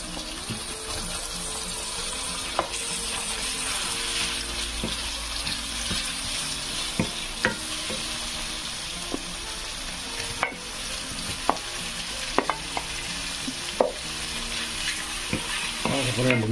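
Meat dropped into a sizzling sofrito in a pan and stirred, with steady frying hiss under scattered clinks and scraping taps from the spoon, no talk.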